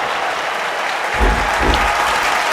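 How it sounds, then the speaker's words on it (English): A crowd cheers and applauds in a wrestling video game, a broad roaring wash of clapping and cheering that swells louder partway through and keeps building. "You can hear the crowd starting to cheer, starting to build more and more here for Shen Ryu in this matchup."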